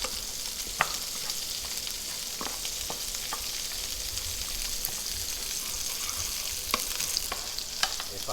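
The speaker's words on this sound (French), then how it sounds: "Alors on va faire suer le riz gentiment avec les asperges." Rice and asparagus sweating gently in oil in a pan, a steady soft sizzle with occasional clicks of stirring throughout.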